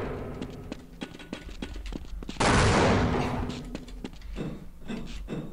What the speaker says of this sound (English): And my last grenade.